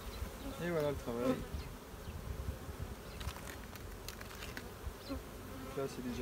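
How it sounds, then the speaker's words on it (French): Honeybees swarm and drone around a beehive super being placed for honey harvest, a steady close buzzing with individual bees zipping past the listener, no speech. "Là c'est déjà plein d'abeilles"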